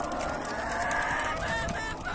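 Backyard chickens squawk and honk loudly and continuously nearby, a short burst of busy flock calls with no voices.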